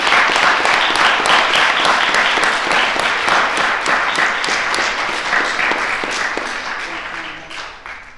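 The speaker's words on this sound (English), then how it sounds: "Let's give them a big round of applause." Audience at a lecture at the Plymouth Institute of Education bursts into sustained, dense applause, many hands clapping steadily for several seconds before gradually tapering off at the end.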